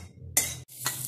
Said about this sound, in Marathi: कांदा घातलाय आपण कढईमध्ये